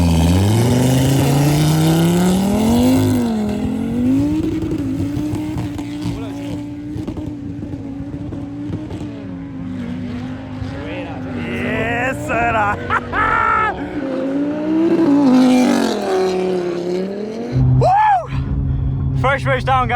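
A Nissan GT-R launches in a drag race on a ski slope, its engine roaring loudly at the start and its pitch climbing and wavering as it pulls away, with a voice shouting over the noise near the end.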